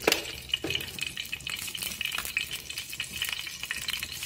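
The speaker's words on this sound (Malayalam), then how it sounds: "പാത്രം ചൂടായിട്ടുണ്ട്. കുറച്ച് വെളിച്ചെണ്ണ ഒഴിച്ചെടുക്കാം." Coconut oil sizzling as it is poured into a hot pan in a home kitchen, a continuous crackling hiss with small clinks of utensils and no talking.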